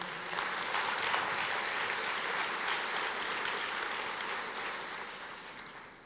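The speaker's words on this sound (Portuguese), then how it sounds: "pode aplaudir" A church congregation applauds during a sermon, a steady wash of dense clapping from many hands that holds evenly for several seconds at a distance before tapering off.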